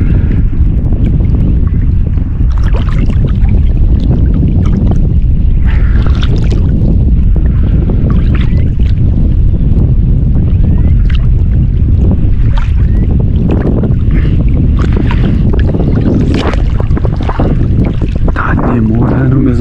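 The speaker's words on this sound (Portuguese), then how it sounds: "Muito vento hoje, pessoal" Strong wind buffets the microphone without a break on a fishing boat out on the water for tucunaré, a loud, close, roaring rumble with water noise mixed in.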